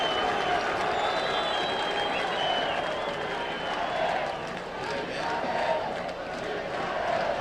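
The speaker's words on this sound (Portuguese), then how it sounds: "O torcedor aplaude o argentino." A large crowd roars and applauds in a stadium during a Brazilian Championship football match between Grêmio and Flamengo, a continuous wash of clapping and voices at moderate distance.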